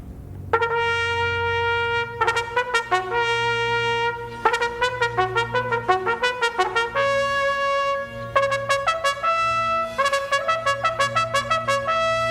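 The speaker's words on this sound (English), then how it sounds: "In the middle of the piece, there's a section called the battle scene, and in it, the trumpets play a call that sounds like this." A solo trumpet plays the battle-scene call from Strauss's Ein Heldenleben, rapid bursts of repeated tongued notes and short runs over a low sustained hum, close and bright with no talking.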